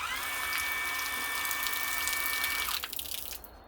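A Worx Hydroshot cordless pressure washer sprays water in a steady close hiss with a faint high motor whine, then cuts off near the end and the spray trails away into quiet.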